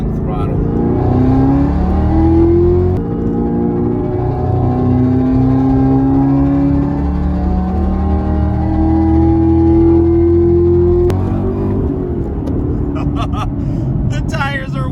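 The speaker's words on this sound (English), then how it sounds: "I'm gonna ease into it a little bit slower and see if we can see what this thing does on wide open throttle." A Chevrolet Camaro ZL1 at wide open throttle on cold tires gives loud, rising engine pulls with climbing harmonic whine, easing off and revving again, close and powerful, with a voice talking over it near the end.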